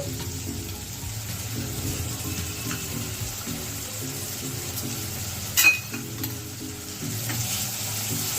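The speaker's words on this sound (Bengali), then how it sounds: "দিয়ে মশলাটাকে ভালো করে কষিয়ে নেব।" Spice paste of cumin, coriander, turmeric and chilli frying with tomato paste for doi katla, a continuous soft sizzle under steady stirring, with one brief louder clink partway through.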